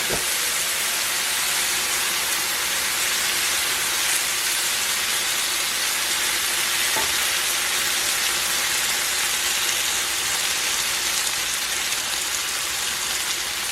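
Chow mein noodles are stir-fried with sauce in a hot pan, giving a steady, loud sizzling hiss that holds unbroken throughout with no talking.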